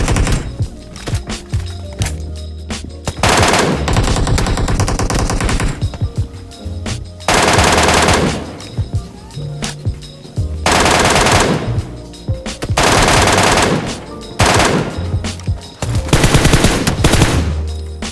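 Fully automatic high-damage rifle fire in PUBG Mobile comes in several loud, sharp bursts of rapid shots, separated by short pauses filled with quieter game sounds.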